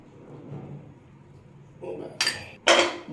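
A metal lid goes onto a pan covering an uttapam: two sharp clanking contacts near the end, preceded by quiet kitchen rustle and soft talk.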